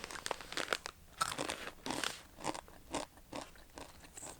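Close, loud crunching of a crispy organic wheat-and-rice-flour tteokbokki-flavored snack, several irregular crisp bites and chews in quick succession with no talking.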